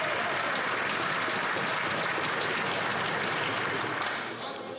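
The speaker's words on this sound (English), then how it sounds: "the Prime Minister got so much applause that I'm going to let him start over" Sustained loud applause fills the House of Commons chamber in the Canadian Parliament for the Prime Minister during Question Period, a dense even clatter of many hands that tapers slightly at the end.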